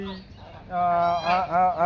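Domestic geese honking loudly beside the Bangshai river, a few overlapping nasal calls that build and repeat over a steady low background.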